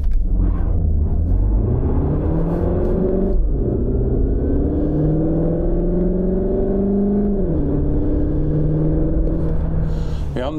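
A CUPRA Formentor VZ eHybrid accelerates hard from a standstill, its engine note climbing through several gear steps with brief dips at each shift. Heard from inside the car, with a continuous loud rumble throughout.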